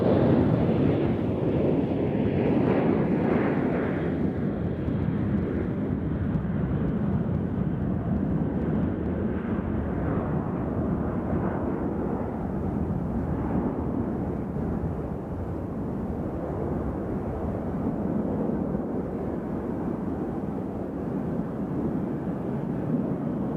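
An airliner taking off for New Orleans from Nashville International Airport sends a broad, continuous jet roar that holds loud, then slowly softens and dulls as it climbs away.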